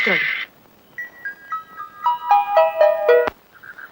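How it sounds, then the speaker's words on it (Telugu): A phone ringtone plays a rising series of electronic notes, loud and close, then cuts off abruptly. "అమ్మో పోలీస్ ఫోన్"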